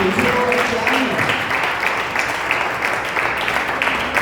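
A church congregation claps in a steady wash of applause, a voice faintly audible beneath the clapping.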